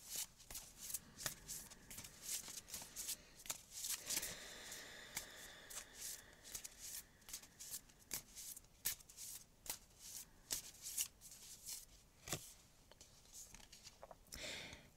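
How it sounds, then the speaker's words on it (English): Someone shuffles a deck of oracle cards close up: a steady run of soft, papery riffles and taps that continues quietly throughout, with faint breathy voice sounds underneath. "we will just shuffle these cards"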